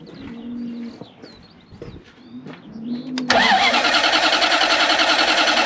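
A Toyota FJ40 Land Cruiser with a 1UZ engine cranks over loudly and steadily with a rhythmic starter whir after a few seconds of quieter clatter and bird chirps, continuing to the end.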